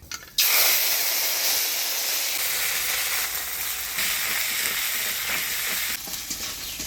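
Black cumin, ginger and green chili paste hit hot oil in a pan with a sudden loud sizzle that settles into a steady hiss, with brief stirring surges and no talk.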